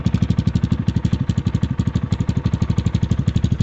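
A 2019 XMOTOS 250cc dirt bike engine idles on a cold start, a close, loud, fast and even single-cylinder chug that keeps a steady rhythm throughout.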